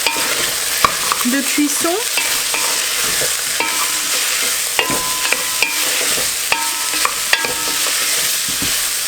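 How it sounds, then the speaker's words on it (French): A wooden or metal utensil stirs and scrapes the bottom of a cooking pot of Mexican-style braised beef, scraping strokes over a constant loud sizzle, close and alone apart from a brief voice. "Mélanger un petit coup en grattant bien le fond de la cuve pour récupérer les sucs"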